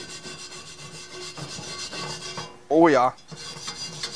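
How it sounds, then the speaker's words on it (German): Steady, close scraping and rubbing as rust is scrubbed off a cast iron Dutch oven to roughen the surface, with a brief spoken exclamation partway through. "Wir rauen jetzt praktisch auch die Oberfläche ein bisschen auf."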